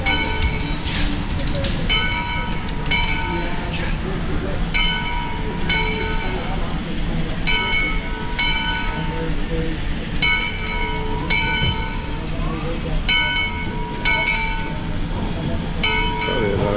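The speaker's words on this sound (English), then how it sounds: "He'll drive the train around." A steam locomotive on the Yosemite Mountain Sugar Pine Railroad rumbles along continuously while a bell rings in regular, repeated strokes, with crowd chatter in the background.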